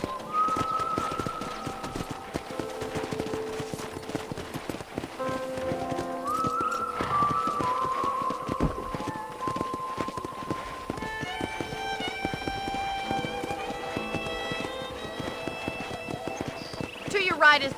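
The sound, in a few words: horse hooves clip-clopping while riding, in Red Dead Redemption video game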